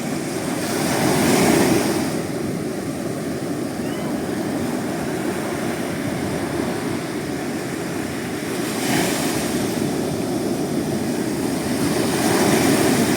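Ocean waves roll steadily onto a sandy beach strewn with small shells, with a constant broadband wash and wind noise and slightly louder surges near the start, around nine seconds and at the end.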